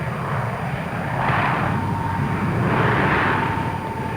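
Single-engine training plane in flight with a sputtering, failing motor, a steady droning roar that swells twice in slow waves, fairly loud and close with no talk.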